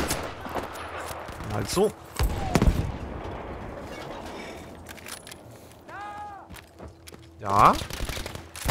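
Gunfire in the video game Battlefield V: scattered shots and bursts crack near and far over a low battlefield rumble, with brief spoken remarks and some clinking in between.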